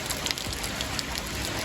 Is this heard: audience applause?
no